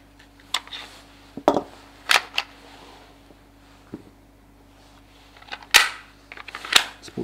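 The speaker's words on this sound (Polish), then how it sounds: "Nasze działanie w tej chwili powinno polegać na tym, żeby dosyć energicznie uderzyć zamek z tyłu." A jammed pistol's slide is struck firmly from behind to clear it, producing a series of sharp metallic clacks and clicks spaced irregularly against a quiet background.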